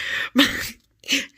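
Two close, sharp bursts from a person, a sneeze-like explosive exhale followed after a short pause by another, quick and fairly loud against silence.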